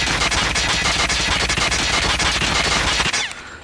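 RUS-79U gun firing full-auto in a video game, a loud close continuous stream of rapid shots at a steady rate that cuts off near the end.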